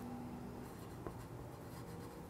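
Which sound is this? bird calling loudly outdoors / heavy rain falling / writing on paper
writing on paper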